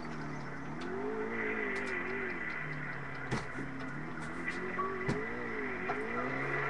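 A car engine in the video game GTA 4 hums at a fairly quiet level. Its tonal drone rises and falls gently, with a few soft clicks layered over it.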